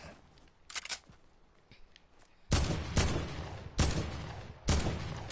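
AK rifle gunfire in the Fortnite video game: four loud, sharp broadband bursts arrive in a steady rhythm in the second half, preceded by quieter scattered shots and bursts in the background.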